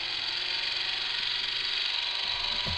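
A wobbly 3D printed spur gearbox turns its first stage, grinding out a steady mechanical whir with faint ticking gear teeth, close and continuous under a high hiss, with no talking.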